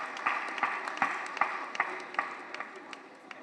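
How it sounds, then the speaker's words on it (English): Scattered clapping from a crowd at an official launch event, a run of sharp claps that thins out and fades toward the end, fairly quiet and without talk. "Another round of applause for Professor Umba."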